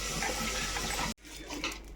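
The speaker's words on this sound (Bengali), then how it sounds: "শিলটা একটু ধুয়ে তুলে দাও জল দিয়ে।" Water pouring steadily over a stone grinding slab being rinsed, a continuous splashing rush that cuts off abruptly partway, followed by quieter dripping and faint handling.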